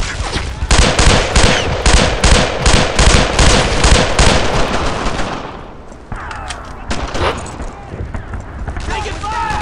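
Loud gunfire in Brothers in Arms: Earned in Blood comes as rapid, evenly spaced automatic bursts at close range for several seconds. It then thins into scattered, more distant shots and crackle as battlefield ambience continues.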